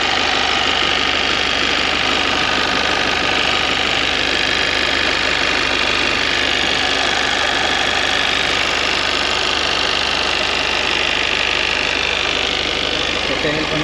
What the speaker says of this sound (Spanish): Pero primero vámonos al motor, para que lo escuchen